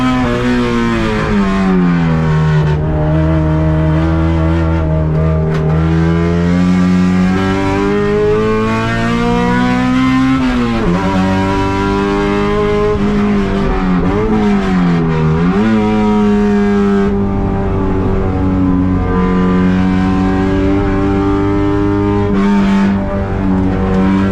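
A 1995 Honda Civic DX race car with a B16A engine howls loudly around a track, its engine note rising and dropping sharply through several downshifts, close and continuous with no talking.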